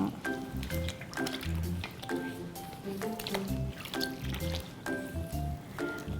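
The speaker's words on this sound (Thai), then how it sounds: "แล้วล้างน้ำออก จนสบู่เกี้ยง" Water poured and splashed to rinse soap off a newborn baby during a bath, repeated soft trickles and drips in an uneven rhythm, close by, with a quiet voice talking over it.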